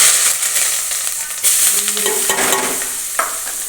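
Loud, steady sizzling of spices tempering in hot oil with asafoetida and curry leaves, with a few sharp crackles and scraping stirring sounds mixed in.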